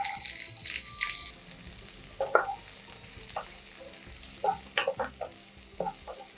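Chopped onion dropped into hot oil with crackling mustard seeds and cumin, frying for stuffed capsicum; a steady sizzle with stirring clatter and a few sharp spatula scrapes, close up, no talking.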